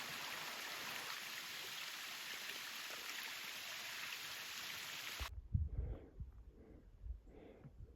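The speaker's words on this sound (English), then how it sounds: "here's a nice little waterfall" A small forest waterfall on a wooded mountain trail gives a steady broadband rush of falling water that ends abruptly partway through, followed by a few close low thumps and rustles.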